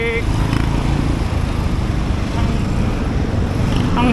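Heavy road traffic with motorcycles and trucks on a wet road at night during a bike loop on Marinduque, a steady loud engine rumble with tyre hiss throughout, close and continuous.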